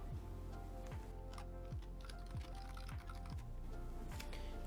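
Computer keyboard being typed on in steady, quick keystrokes, close and fairly quiet, with regular clicking taps throughout.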